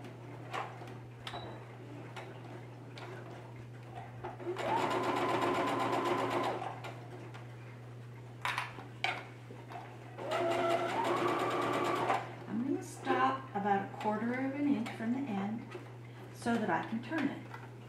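A home sewing machine runs a quarter-inch seam in two loud bursts of steady, rapid stitching with a backstitch, separated by clicks, handling noises and a constant low hum, while a person talks between the runs.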